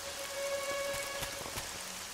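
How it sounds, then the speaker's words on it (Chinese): Cartoon rain effect: a soft, steady patter of drops on a surface with a few crisper individual plinks, heard on its own without speech. "竟然让本王尊贵的身体淋雨！"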